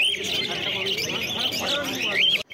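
Budgerigars and other caged birds chirp and tweet densely at the Garia bird market, a steady, close, overlapping chatter with a few brighter whistles rising near the end, faint voices mixed in.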